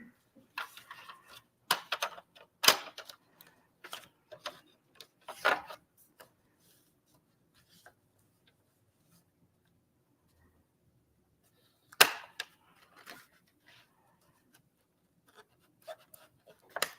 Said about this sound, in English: Let's watch her struggle with the paper trimmer.